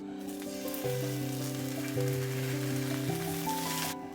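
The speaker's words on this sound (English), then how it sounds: "Allow the tofu to sear for a few minutes, then give it a toss." Tofu cubes sear in avocado oil in a hot pan with a soft, steady sizzle beneath gentle sustained background music.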